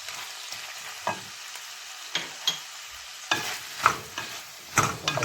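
Meat and pearl onions sizzle gently in a pot for a beef and shallot stew, with a steady low fry broken by several distinct scraping stirs of a spoon, close and moderately loud, no voices.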